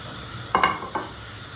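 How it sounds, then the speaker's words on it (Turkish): Chicken liver tips from a container into a pot of boiling water, two short splashing clatters up close over a steady bubbling, hissing background. "Ciğerimizi döküyoruz içine."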